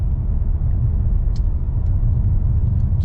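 A 2022 BMW M4 Competition drives fast up a mountain road, its engine a steady loud low rumble heard from inside the car, with a few faint clicks over the top.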